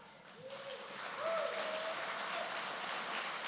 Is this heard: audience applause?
yes